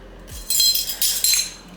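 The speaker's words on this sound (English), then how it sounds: "Let me just get my measuring spoon." Metal measuring spoon clinking and rattling as it is pulled from a kitchen drawer while baking pumpkin spice cookies; a quick series of bright, close clinks with two louder bursts.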